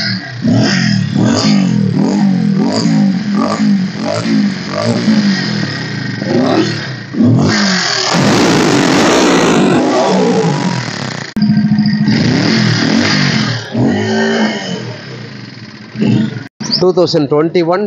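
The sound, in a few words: motorcycle engine revving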